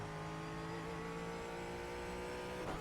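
A Ford Mustang GT4 race car in iRacing drones at steady revs, its engine tone holding level throughout, with a faint tire or shift blip near the end and no talking.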